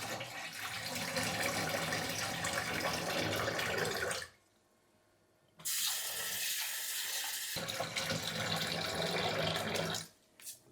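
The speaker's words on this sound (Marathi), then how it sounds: "तर तांदूळ स्वच्छ धुवून घ्यायचे" Running water splashes steadily into a vessel of rice being washed, stops for about a second, then resumes and pours again before cutting off near the end.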